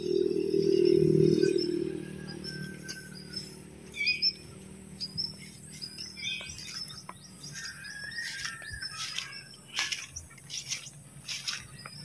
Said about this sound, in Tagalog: Saka ito, may ibon yan.